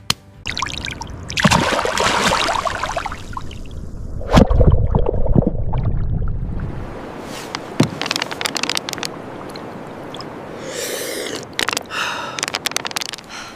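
Fresh water pours and splashes in uneven bursts close by in the Alaskan wilderness, with trickles and sloshing breaking up a steady outdoor rush.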